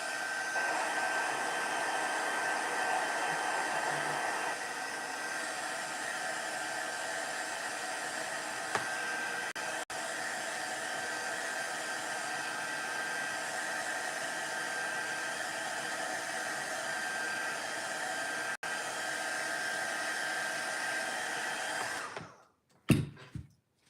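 A hair dryer blows steadily and loudly close by for over twenty seconds while drying a winter button tree craft, then shuts off with a few handling clunks.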